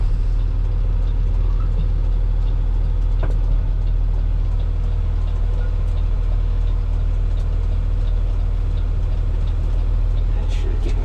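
Chevy pickup truck left on a curb after losing a wheel, its engine idling with a steady low rumble throughout, close and even, with faint clicks and light background noise.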